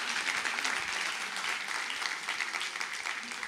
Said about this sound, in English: Another round of applause for our amazing keynote speaker.